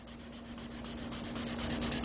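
Marker scrubbed back and forth on paper to render fabric colour in a fashion sketch, a close, continuous dry rubbing with a fast, even stroke rhythm and no talk.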